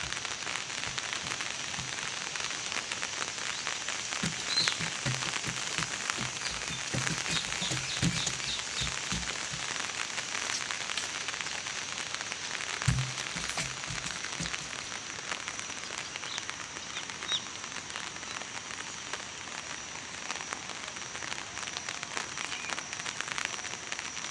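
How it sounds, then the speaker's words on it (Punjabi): Light rain falls steadily outdoors in a broad, even patter, with a few louder crackling drops and a brief low thump midway. "ਮੀਂਹ ਲੱਗਿਆ ਹੋਇਆ ਜੀ ਪੈਣ ਥੋੜਾ ਥੋੜਾ"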